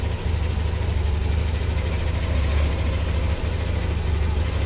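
A motorcycle engine idles at a steady, loud, even drone for the whole stretch, with no revving or change in pitch.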